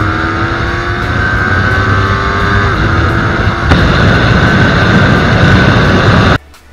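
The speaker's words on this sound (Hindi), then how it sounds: "दूसरा डुअल सिलेंडर है तो आवाज़ बहुत ही अच्छी आएगी" A Yamaha R3 twin-cylinder 400cc-class sport motorcycle engine runs loud and close, holding a steady drone with a rising pitch through the run, then cuts off abruptly near the end.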